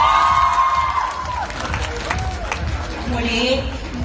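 A crowd at a beauty pageant cheers and shouts with scattered applause, a dense, loud roar of voices with whoops, while an amplified voice talks over it.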